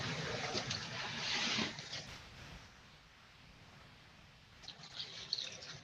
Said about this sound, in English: pour a little bit more water in there